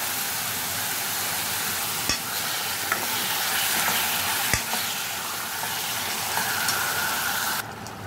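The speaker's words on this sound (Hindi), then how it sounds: "अब इसको हमें अच्छे से मिक्स करना है और साथ ही जो है मैं 1 टेबल स्पून भर के लहसुन अदरक का पेस्ट डाल दूँगी।" Onions fry in a pan while garlic-ginger paste is stirred in for a qeema matar aloo dish. A steady, close sizzle runs throughout, broken by a few sharp taps of the stirring utensil, with no talking.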